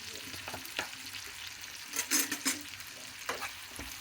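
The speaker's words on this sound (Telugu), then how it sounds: "ఉల్లిపాయలు పచ్చివాసన పోయే వరకు వేయించుకోవాలన్నమాట." Onions fry in a pan for thotakura vepudu, a soft steady sizzle broken by several sharp spatula scrapes and stirring clatters, close but fairly quiet with no talking.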